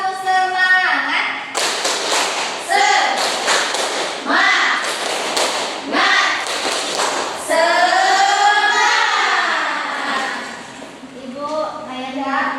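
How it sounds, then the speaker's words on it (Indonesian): Second-grade schoolchildren in a classroom perform a rhythmic spirit clap, sharp bursts of group clapping in patterned beats alternating with loud chanted voices, sounding close and energetic. "Kita tepuk semangat dulu ya."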